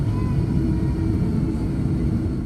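A Qantas Airbus A330 taxis toward the east-west runway, heard from inside as a steady low cabin rumble with a constant engine hum throughout.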